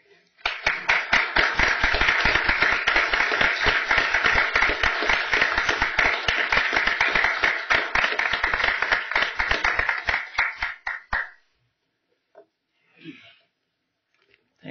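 Brisk applause from a small audience at an elected officials' meeting, a dense run of sharp close claps for about ten seconds that stops abruptly, followed by near silence with a brief faint voice.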